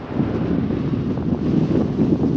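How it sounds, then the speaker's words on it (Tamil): Strong wind buffets the microphone on a high bridge near Tiruchendur in a steady, dense roar that stays loud and unbroken throughout, with no voices. "பயங்கர காற்று எவ்வளோ உயரம் பாருங்கள் பாலம்"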